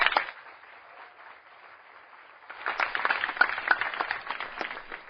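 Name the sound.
audience applauding at a debate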